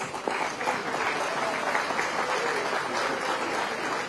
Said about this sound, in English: A huge round of applause for all of us.